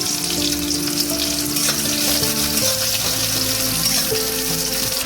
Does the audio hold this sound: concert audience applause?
no